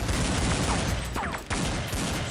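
Desert Eagle pistol fire in a Counter-Strike esports match, a few sharp shots buried in a dense, loud wash of gunfire and game noise across the whole stretch.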